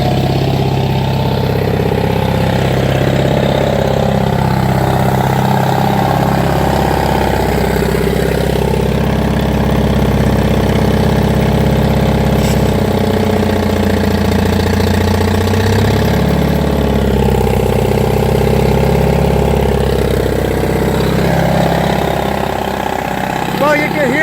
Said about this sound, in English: you could hear it load the engine when I pulled the handle up